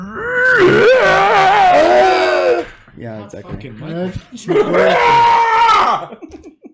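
A voice imitates a loud Bigfoot scream, two long wailing howls separated by a brief pause with talk, close and very loud.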